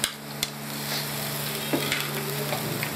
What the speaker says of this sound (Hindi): अदरक लहसुन को थोड़ा सा फ्राई करेंगे।